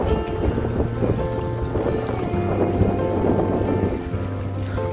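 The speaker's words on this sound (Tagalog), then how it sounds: "Ang hangin." Wind buffets the microphone at Rock Island, a continuous loud rumbling roar with steady gusts and a faint tonal hum underneath, no talk.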